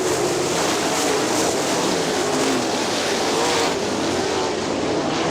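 Sprint cars race around Kokomo Speedway, a dirt oval, their engines roaring loud and steady as a dense, continuous wall of sound with no break.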